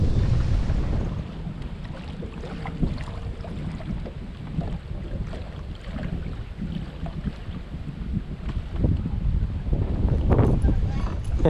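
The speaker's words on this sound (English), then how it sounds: "Really windy." Strong wind buffeting a bass boat out on a river, a steady loud low roar of gusts against the microphone with water and boat noise mixed in, rising toward the end, with talk underneath.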